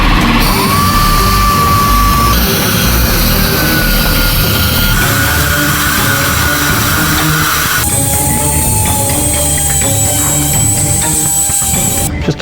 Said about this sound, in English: I'm just doing a little bit of touch-up sanding right now.